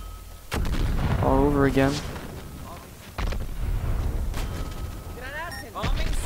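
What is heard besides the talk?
gunfire from a gun in the video game Dirty Bomb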